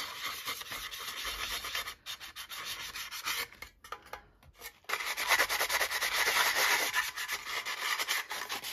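A sanding block scrubs the surface of an altered metal tin in close, continuous rubbing strokes that pause briefly near the middle and then resume louder, with no voices.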